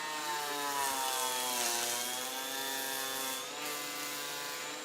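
A Festool HL 850 electric planer cutting wood, a steady high-pitched motor whine with strong tonal harmonics that holds fairly level and dips slightly mid-cut, loud and close.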